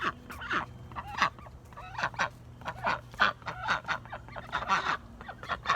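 A group of ducks quack and honk noisily and repeatedly, close by, in overlapping bursts over a low steady hum.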